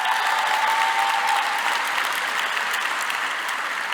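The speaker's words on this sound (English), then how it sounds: "So please also give her a round of applause." Steady, dense applause from a large audience at a medical school declaration ceremony, sustained evenly for several seconds with no voices rising above it.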